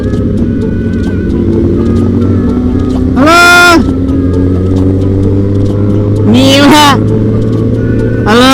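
A big motorcycle rides along a Jakarta road with a steady engine drone, while other bikes rev past with two loud rising-and-falling surges close by; a rider's voice is briefly heard.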